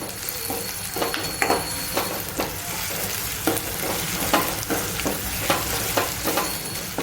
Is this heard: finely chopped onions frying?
yes